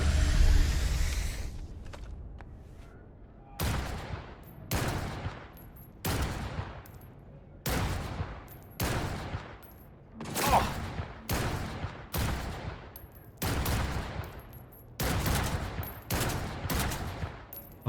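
Gunfire in Cyberpunk 2077: Phantom Liberty, with a rhythmic series of about a dozen heavy, booming shots spaced roughly a second apart, loud and close.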